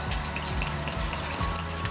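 Vegetable broth and water pour into a soup pot, a steady close splashing trickle with gurgling glugs and faint sizzling, no talking.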